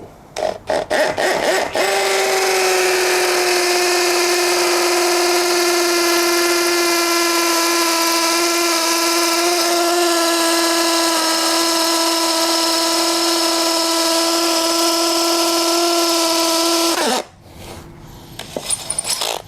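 A DeWalt DCD100 cordless impact drill whines at a steady pitch for about fifteen seconds, close and loud, with brief clicks before and a sputtering stop at the end.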